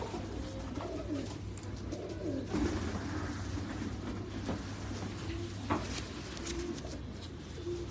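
Pigeons coo in soft, low, rolling phrases, repeating every second or two at moderate distance against a quiet background, with an occasional knock or clatter.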